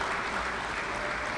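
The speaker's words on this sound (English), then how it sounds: "I want to give those two schools a round of applause for that." Dense, steady applause from an audience at a secondary school football league prize awards, filling the whole short stretch evenly with no voices.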